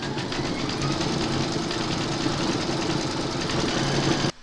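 An embroidery sewing machine stitches a motif in a steady, even, mechanical whir that runs loud and unbroken until an abrupt stop at the end.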